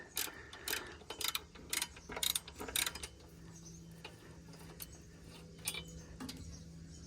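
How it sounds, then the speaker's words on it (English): Ratchet wrench working on the EGR coolant pipe of a Cummins X15 truck engine, giving several short bursts of clicking strokes spread through the clip over a low steady hum, with quieter pauses between. "So you gotta grab your ratchet."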